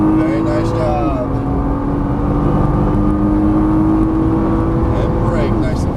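Nissan GT-R accelerating hard down a race track straightaway, a loud sustained engine drone that climbs steadily in pitch after a brief gear change, with a voice talking over it.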